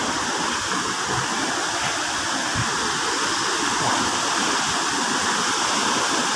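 Baluarte Falls waterfall roaring in a steady, dense rush of falling water, loud and continuous throughout.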